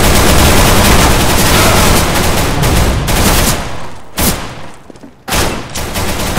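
Rapid gunfire from players shooting each other in a first-person shooter video game, loud dense bursts of shots up close, overlapping and continuous before breaking into separate shots.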